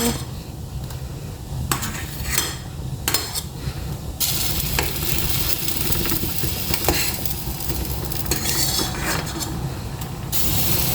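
Steady bubbling and sizzling from a pot of pork sinigang soup boiling on the stove, with intermittent metallic clinks and stirring scrapes throughout.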